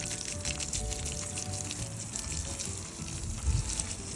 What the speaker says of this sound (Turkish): Şimdi kişnişlerin toprağa karışması için hafif su atıyorum